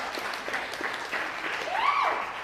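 Audience applauding a speaker, a soft, continuous wash of clapping that swells slightly toward the end, with a brief higher vocal whoop rising near the close.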